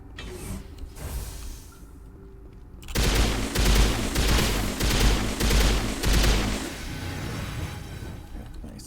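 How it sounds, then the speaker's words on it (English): Rapid gunfire bursts from a video game battle set among storage lockers, starting abruptly after a quieter mechanical stretch and continuing as loud, dense volleys with creaking and mechanical clatter underneath. "Guns!"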